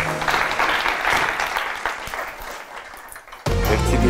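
Studio audience on a television quiz show applauding, a broad crowd of clapping that thins out over a few seconds before a louder burst of other sound cuts in abruptly.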